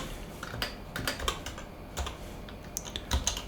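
Fingers tap a computer keyboard in irregular clusters of crisp, close keystrokes over a few seconds, with no voices.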